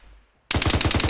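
Sudden close burst of rapid automatic machine-gun fire in Arma 3, a fast even string of loud shots cutting in after a brief quiet lead-in.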